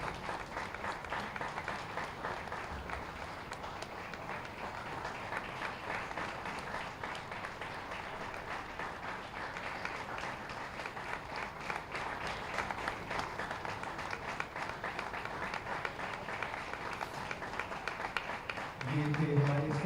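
Audience applause at a ceremony welcoming guests on stage: sustained, fairly faint clapping from a crowd that runs throughout without pause.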